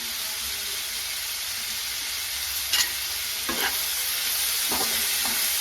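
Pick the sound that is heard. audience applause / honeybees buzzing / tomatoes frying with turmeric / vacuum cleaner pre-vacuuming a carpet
tomatoes frying with turmeric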